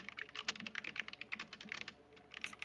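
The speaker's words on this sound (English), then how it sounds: "Tappity tap is a good sound. Yeah, that's why I like mechanical keyboards." Fingers type on a mechanical keyboard in quick, uneven bursts of crisp clicking keystrokes, close but quiet, with no talk over them.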